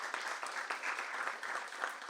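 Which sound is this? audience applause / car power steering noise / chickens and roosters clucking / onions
audience applause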